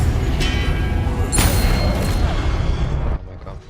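A spell cast in the wizarding game Hogwarts Legacy lands as a loud, booming burst with a bright magical shimmer, sustained for about three seconds before cutting off abruptly into quieter game ambience.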